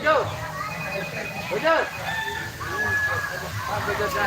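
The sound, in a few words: chickens clucking and crowing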